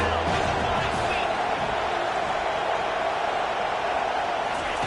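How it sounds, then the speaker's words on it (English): Dense, steady stadium crowd roar from an NCAA 25 college football game, a constant wall of cheering that fills the whole clip under a commentator's voice. "Third down, and this crowd is tearing the lid off this place."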